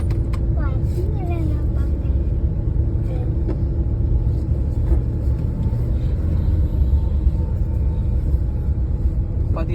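Car engine in second gear during a driving lesson, a steady low rumble running under continuous talk throughout, with no gaps.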